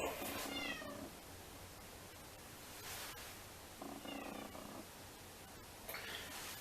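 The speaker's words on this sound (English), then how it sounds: "the cat screameth." A house cat meows several times in separate, drawn-out calls spaced a couple of seconds apart, close and fairly clear over a quiet room with low background hiss.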